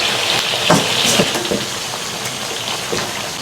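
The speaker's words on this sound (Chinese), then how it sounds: "把这个配菜炸干，炸到没有水分，捞出来就行了" Onion, scallion, celery and cilantro frying in hot beef tallow, a dense steady crackling sizzle with scattered pops and spits, close and loud throughout, no talking.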